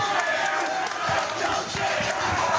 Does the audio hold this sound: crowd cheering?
yes